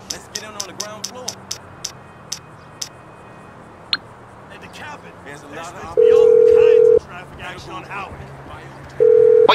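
A phone call in the video game GTA 5 plays a series of sharp electronic dialing ticks followed by long, loud steady call tones, with a voice talking in between.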